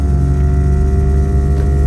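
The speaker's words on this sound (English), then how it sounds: "And that noise is my air compressor for my train horn." A loud, steady mechanical drone of a train-horn air compressor running continuously outdoors in 17-degree snowy cold, with a low humming throb and constant pitch throughout.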